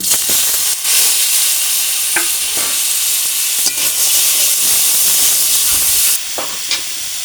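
Chopped mango hits hot mustard oil in a wok already seasoned with dried chillies and mustard seed, giving a loud, steady sizzle and hiss throughout with occasional scraping stirs.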